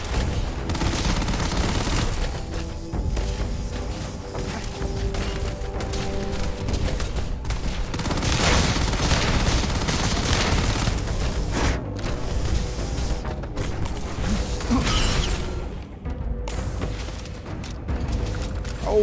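Sustained heavy gunfire in the space game Starfield, dense overlapping bursts and booms filling the whole stretch with barely a pause, loud and close.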